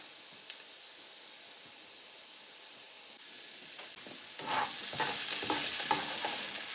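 Carrots sizzle and fry in a pan on a cooker, quiet at first and then a louder, crackling sizzle with stirring scrapes joining in partway through, with no voices.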